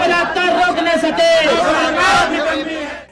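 Supporters at a BSP rally at Bhopal's Ambedkar Jayanti ground roar and chant together, a dense, loud wall of voices that swells and holds throughout before easing at the end.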